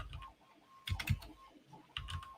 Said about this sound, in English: I am having issues typing